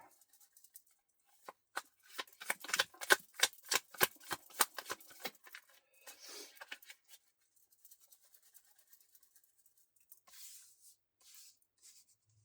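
Tarot cards riffle and flick in a quick burst of crisp clicks, followed by quieter sliding and tapping as they settle, close by with no talking.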